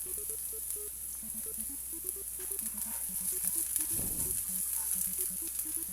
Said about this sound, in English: Then I'm gonna add the minced garlic.